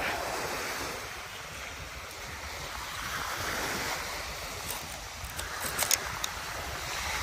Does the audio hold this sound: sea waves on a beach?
yes